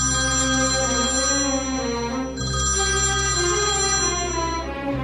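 A telephone rings with a steady electronic ringtone while a call is placed to the lineman during a power cut. The ring is loud and continuous, with a brief dip midway, and no talking.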